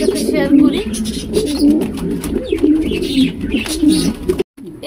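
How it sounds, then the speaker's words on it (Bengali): A black fancy pigeon coos repeatedly inside a delivery box, throaty and close, in a regular rhythm. A person talks over the cooing. "এই যে দেখতেই পাচ্ছেন বক্সের ভিতরে কবুতর দেওয়া হয়েছে"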